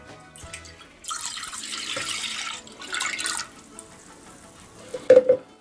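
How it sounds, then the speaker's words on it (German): Milk poured into a cooking pot for sweet milk noodles, a splashing liquid stream in two bursts with a brief sharp clatter near the end, close and fairly loud. "Als erstes gebe ich dann jetzt die Milch in den Topf"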